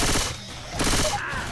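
A short, loud burst of rapid gunfire in the co-op zombie shooter Left 4 Dead 2 fills the moment from start to end.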